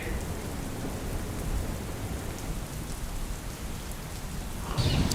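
Heavy, continuous rain pouring on surfaces amid flooding in Vadodara, a dense steady hiss throughout, with a heavier burst near the end.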